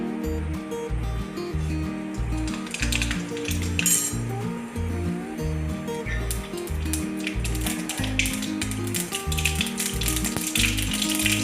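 Mustard seeds and cumin hit hot oil for tempering leftover rotli, crackling and sizzling steadily beneath clinks of a metal spoon against the pan and loud rhythmic background music.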